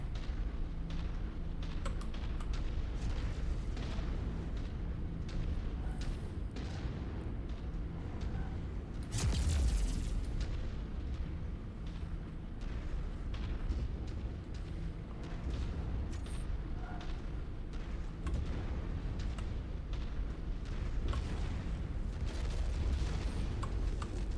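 Booming explosions and weapon fire in the MechWarrior 5 video game, with muffled rumbling blasts throughout and a sharp, heavy burst near the middle, alongside frequent quick clicking.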